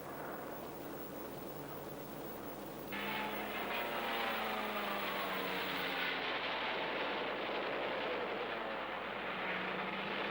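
Steady droning aircraft engines in archival Second World War footage of Japanese carrier-borne planes attacking an American task force, a continuous mid-level roar that grows slightly louder partway through, with no talk.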